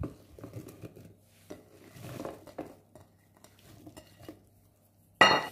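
Soft scraping and tapping of a utensil working through thick apple cake batter in a bowl, in irregular bursts, ending with a sharp clatter.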